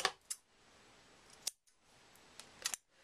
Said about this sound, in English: Cut off your tails as long as you want.